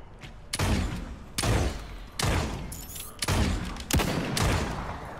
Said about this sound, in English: I think I hear shots south, like a crossbow, like something quiet.